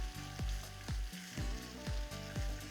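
Vegetables for a vegetable biryani, potatoes among them, sizzle in a hot pan while a spoon stirs and scrapes them in a steady rhythm of repeated strokes, close and fairly loud, with no talking.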